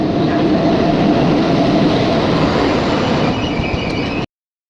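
A train rumbles past close by, loud and continuous, with rolling wheel noise and a faint high squeal near the end before the sound cuts off abruptly.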